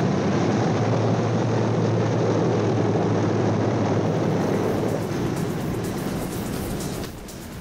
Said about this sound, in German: Und ein besonderes Augenmerk ist auf die Formationsfliegerei gerichtet